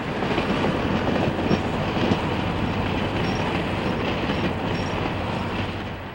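A B&O southbound Cincy passenger train, carrying a railway post office car and a baggage car, rolls along the rails near Romulus Tower with a loud, steady rumble and a continuous wheel clatter throughout.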